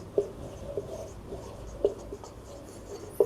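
Pen scratches across paper as "hence proved" is written by hand, a soft continuous scribble with a few sharper taps where strokes begin or end, close and quiet with no voices.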